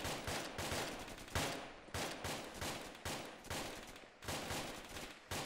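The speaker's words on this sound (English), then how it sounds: "I'm firing." Sustained Arma 2 gunfire in repeated loud bursts of rapid shots, with short gaps between volleys, close and continuous with no talking.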